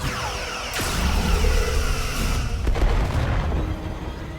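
Starship weapons firing during a space battle in the Star Trek Resurgence video game, a loud booming blast with a whooshing rush and a second hit, sustained and alone without talk.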